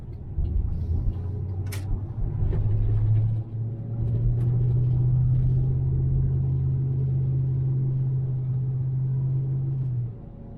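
A car drives along a road into Sloppy Floyd State Park in Georgia, heard from inside the cabin as a steady low engine and road rumble that holds for several seconds and then eases off, with no talking.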